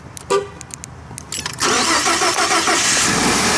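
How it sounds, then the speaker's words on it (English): A truck engine cold-starts after a few clicks and a brief cranking burst, then catches and settles into a loud, close, rough running idle. "I'm going to do a cold start here"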